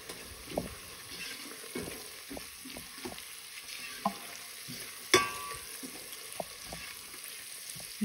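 Garlic, onion and pepper frying in olive oil for lentil soup, stirred with a spoon, a gentle sizzle punctuated by repeated scrapes and knocks against the pot, one sharper clank midway.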